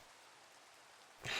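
Rain falls in a video game as a soft, steady hiss throughout, faint and even, with a brighter louder burst of sound at the very end.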